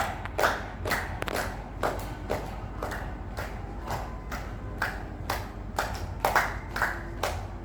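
Participants in a stroke exercise class clap with their fingers rather than whole hands, giving a sparse series of sharp, light claps in a loose rhythm, fairly close, with music faintly underneath.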